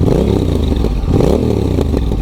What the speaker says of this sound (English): at idle, you can tell that it has exhaust, but it's like not insanely loud